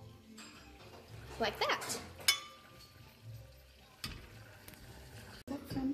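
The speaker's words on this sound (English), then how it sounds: "We are stirring in the butter." A spoon stirring butter into a pot on the stove for crème de menthe bars, with soft scraping, a few metallic clinks and a faint sizzle as someone talks quietly.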